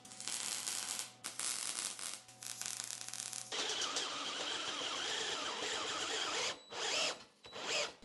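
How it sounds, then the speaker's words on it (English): A tool chases the threads of nuts welded in for mounting to a cross member of an EV Jeep conversion. A continuous gritty whirring and rubbing runs for several seconds, with brief pauses and restarts near the end. "Just chase these real quick, make sure that the welding didn't mess up the threads at all."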